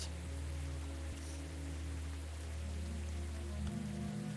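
Rain falls in the Sally Face video game, a soft, steady hiss of raindrops on a surface layered with low, droning background tones, with no talking.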